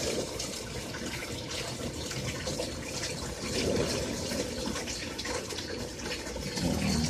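Water drains steadily out of a barrel aquaponics system through a siphon, a continuous close rushing gurgle that holds even throughout and swells slightly near the middle and end.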